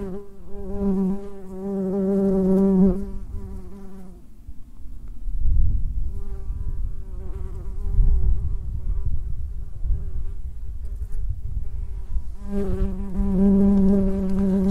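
A bee buzzes close by outdoors near stone circles, a steady droning hum that fades briefly mid-way as it moves off, then returns loud and near again.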